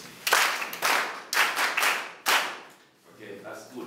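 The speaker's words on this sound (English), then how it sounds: "Can I big clap again?" An audience claps in three bursts of applause, each rising sharply then fading, with a quieter pause and some faint voices at the end.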